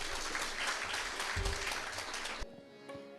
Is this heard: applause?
yes